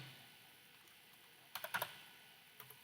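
A short burst of keyboard typing and clicks on a computer keyboard, close and crisp, with a couple more isolated clicks shortly after, following a quiet stretch of near silence.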